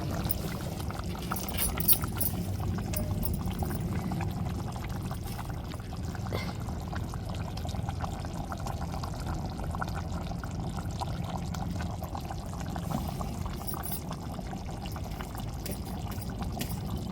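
Shrimp curry poured from a pot onto rice, a continuous close wet pouring and sloshing sound that runs steadily throughout.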